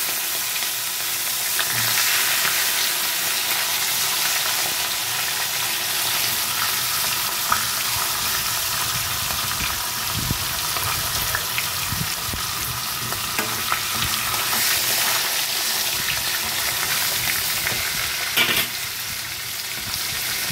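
Fish heads frying in about four to five tablespoons of oil for a Bengali bottle gourd curry, a steady close sizzle and crackle with occasional stirring, no talk.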